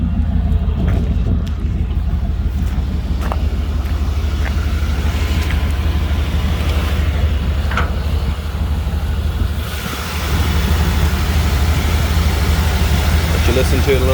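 The engine of a 1995 GMC Vandura 2500 van idles with a steady low rumble, close and even, with a brief dip near the end, and a voice is heard speaking over the running motor.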